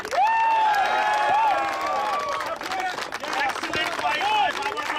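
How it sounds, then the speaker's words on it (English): Crowd at a cricket tournament final applauds the team, scattered clapping and cheers running under a voice on a public address system. "Big round of applause for United 11."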